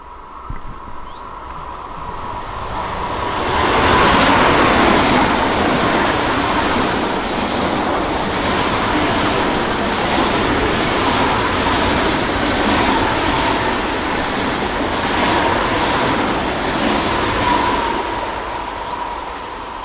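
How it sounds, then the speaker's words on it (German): An ICE 3 high-speed train passes through Aschaffenburg station as a loud, steady roar that builds within a few seconds and holds for the rest of the pass, with no talking. "Da hinten kommt hier der nächste ICE, wenn ich das richtig sehen kann."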